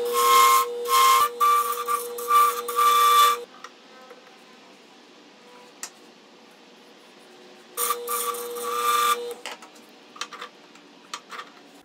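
A wood lathe cuts a wooden roller down to diameter, giving two bursts of bright, rough shaving noise with a steady hum, separated by quieter spinning and light tool taps.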